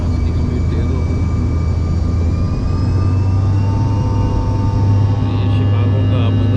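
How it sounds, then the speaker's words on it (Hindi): Passenger jet engines spool up loudly for takeoff on a Karachi to Toronto flight, a steady deep roar with rising whine tones heard from inside the cabin, continuous and close throughout. "हमारे जहाज़ की स्पीड तेज़ हो गई।"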